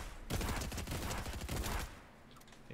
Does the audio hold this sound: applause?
no